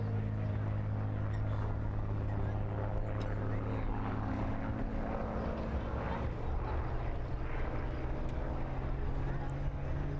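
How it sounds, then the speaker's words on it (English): A Hawker Hurricane fighter flies at an air display, its propeller engine giving a constant loud droning roar throughout, with a commentator speaking over it. "The Hawker Hurricane, one of the classic fighters of all time"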